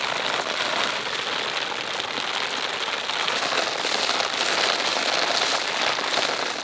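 Steady rain falls and patters on a surface, a dense, even hiss of drops that stays loud and close throughout with no voices.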